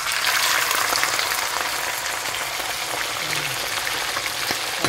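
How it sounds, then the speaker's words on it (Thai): Chicken pieces frying in oil in a pan for a Thai mushroom tom yum, a steady loud crackling sizzle that stays even throughout with no talking. "เทไก่ลงไปเลยจ้ะ"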